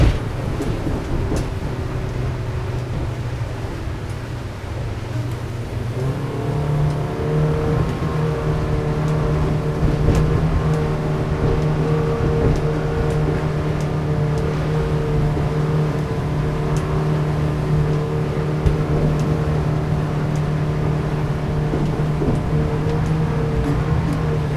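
A Quintrex 610 Trident aluminium boat with a Yamaha F175 outboard accelerating on open water, a steady loud engine drone that rises in pitch and strength partway through, with wind and hull noise throughout and no talk.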